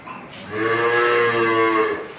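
A Holstein Friesian dairy cow gives one long, loud, close moo lasting over a second, rising from a short lead-in and fading at the end.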